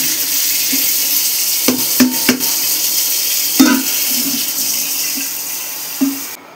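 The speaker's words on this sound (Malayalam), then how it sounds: "ഞങ്ങളിപ്പം വെള്ളം ഇതിനകത്ത് എടുത്തിട്ടുണ്ട്." Water in a cooking pot for potato biryani, a steady wash of pouring or running water with a few sharp clinks and knocks of the pot, close and loud, no talking.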